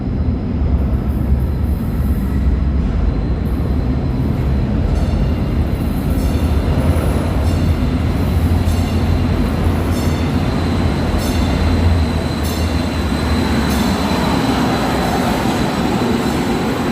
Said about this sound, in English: And now you can hear my train coming.